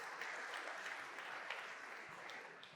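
Audience applause at a startup pitch competition, a faint, steady wash of clapping from a hall crowd lasting a few seconds, heard at a distance with no voices.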